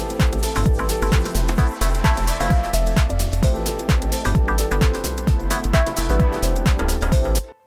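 A full electronic music loop plays loudly, with a steady punchy beat, deep bass and layered melodic parts running continuously until an abrupt stop.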